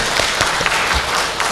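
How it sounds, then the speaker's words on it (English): A conference audience at a plenary session claps in a short, close burst of applause, loud and steady with a few sharper individual claps. "so please give an applause to her."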